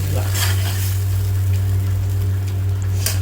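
Cooked rice with raw mango is stirred through in a pan. Soft scraping strokes come through over a steady low hum, close and continuous, with no talking.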